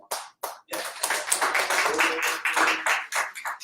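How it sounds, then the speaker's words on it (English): Clapping at a December 2018 poetry slam, starting with two separate claps and then breaking into a dense burst of close, sharp hand claps from several people that carries on to the end. "I'm gonna clap for y'all."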